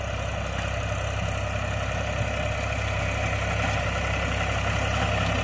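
A New Holland 3600-2 tractor engine runs steadily under load while pulling a rotavator at full working depth in a field, producing a continuous close, loud diesel drone with no pauses and no talk.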